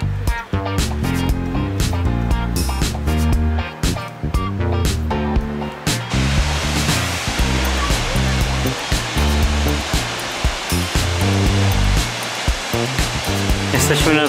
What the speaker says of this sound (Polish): Jesteśmy nad wodospadem.